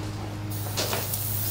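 Airbrush or spray gun hissing paint onto a vintage fishing lure during custom refinishing, with broadband bursts of spray starting midway over a steady low mechanical hum, compressor-like in the background.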